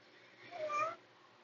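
A pet cat named Kit Kat gives a single short, faint meow, rising and falling in pitch and heard alone against a quiet background.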